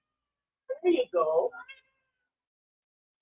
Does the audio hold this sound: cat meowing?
yes